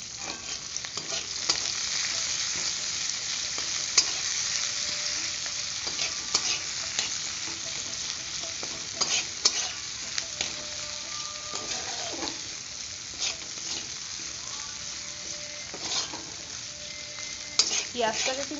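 Onions sizzle steadily in hot oil in a pan after whole spices have crackled, with occasional stirring scrapes and clinks, a continuous close hiss with no talking, while cooking a Bengali mustard-poppy fish dish.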